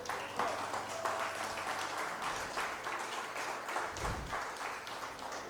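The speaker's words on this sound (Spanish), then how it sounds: "Dele palmas al Señor." A church congregation claps for the Lord, a steady rhythmic applause of many hands at moderate distance with a faint voice beneath it.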